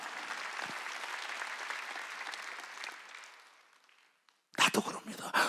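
A church congregation applauds steadily at a Wednesday worship service, the clapping fading out to near silence before a pastor's loud voice cuts in.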